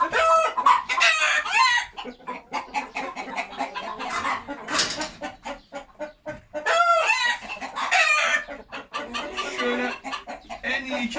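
Several chickens cluck and squawk close by in busy, overlapping bursts, with a rooster-like crow rising briefly in the middle.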